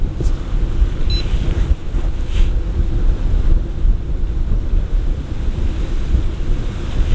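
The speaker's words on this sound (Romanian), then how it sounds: "bate vântul incredibil de tare." Strong wind buffets a microphone beside a lake during a carp-fishing session at Corata, a continuous loud roar and rumble that rises and falls without a break.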